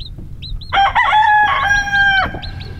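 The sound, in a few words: mother hen clucking to her chick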